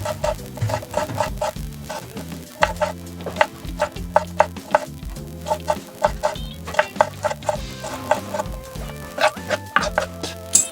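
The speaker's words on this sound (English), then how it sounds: "Then after this, chop them into small pieces." Regular knife chops on a board while cutting ingredients into small pieces for Kenyan breadballs, crisp close strikes in a steady rhythm with short pauses, set against a busy tonal background.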